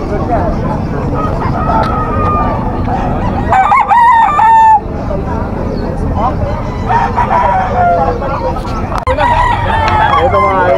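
Chickens at a busy tiangge market in Bocaue crow loudly and cluck repeatedly amid a dense crowd murmur, with several long cock-a-doodle calls rising above the bustle.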